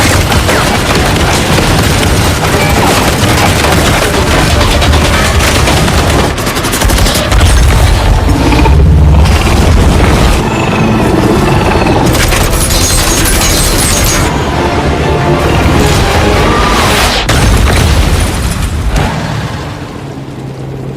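Dense, loud barrage of rapid gunfire from attacking fighter planes and booming explosions with roaring engine noise, sustained throughout before easing slightly at the end.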